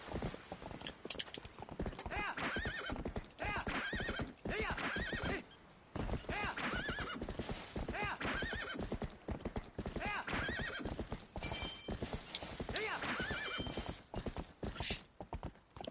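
Epona, the horse in The Legend of Zelda: Twilight Princess, trots with rapid, continuous clip-clop hoofbeats and gives repeated loud neighs. The sound is close and dense, with a brief pause partway through.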